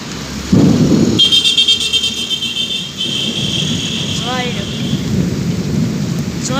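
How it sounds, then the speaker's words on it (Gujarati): Heavy rain pours steadily while a deep rumble of thunder rolls through, with a brief high whine and chirps over the downpour. "જોઈ લો ભારે વરસાદ છે"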